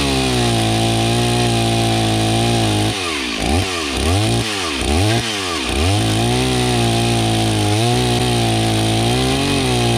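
A Stihl 038 Farm Boss 60cc chainsaw runs close and loud throughout, a steady engine drone with several sharp revving surges in the middle before settling back to an even idle-to-mid throttle.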